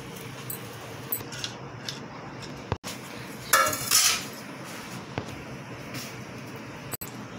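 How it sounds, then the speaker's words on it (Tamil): A metal kadai is set down on a stove with a sharp clank and a brief rattling scrape, plus a few scattered clinks of kitchen metal in a quiet room. "இதுக்கப்புறம் நம்ம ஒரு கடாயை அடுப்பில் போடுறோம்"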